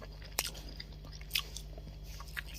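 Boneless fried fish is bitten and chewed up close, with a few sharp crunchy bites and soft chewing between them over a quiet background.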